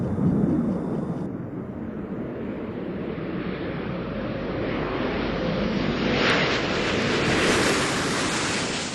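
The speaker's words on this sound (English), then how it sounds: "Atlantis rolling out on runway 15 at the Kennedy Space Center" Space Shuttle Atlantis rolls out on runway 15 at Kennedy Space Center after landing, a loud continuous broadband roar with wind-like rushing that swells gradually, heard from a distance with no voices.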